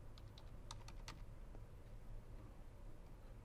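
Quiet keystrokes clatter on a computer keyboard in a short irregular burst of clicks, then fade to faint background hiss, with no voices.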